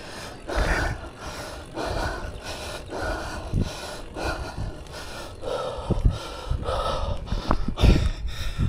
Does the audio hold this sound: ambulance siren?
no